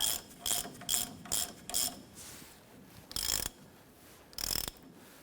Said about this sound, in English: Let's go ahead and snug this nut down.